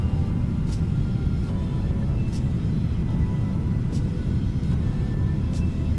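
Simulated F-16 jet in Microsoft Flight Simulator gives a dense, steady low engine rumble that fills the whole stretch, with faint periodic ticks above it and no speech.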